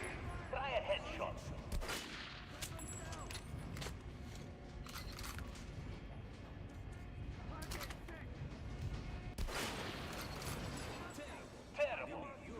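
Gunshots ring out in the Metro Last Light Redux video game, several sharp cracks spaced a few seconds apart amid faint in-game sounds and voices.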